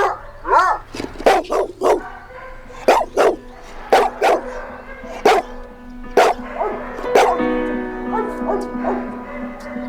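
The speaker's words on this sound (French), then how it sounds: "Aboyer à gorge déployée" A dog barks loudly and close by in sharp repeated bursts, with yips and whimpering tones between the barks, alone with no talk.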